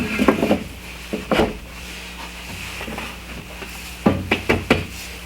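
Wooden wedge slid into a slot to secure a DIY shed door: a few sharp wooden knocks and scrapes, then a quick cluster of taps as it is seated, close and fairly loud.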